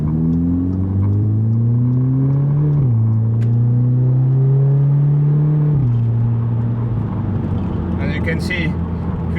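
An Audi S3 8V engine in sport mode accelerates through gears from inside the cabin, its note rising steadily before dropping at two automatic upshifts around 3500 RPM, then climbing again, with talk over it.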